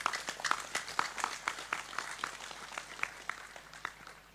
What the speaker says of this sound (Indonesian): Ayo, tepuk sing banter, gak usah sungkan-sungkan.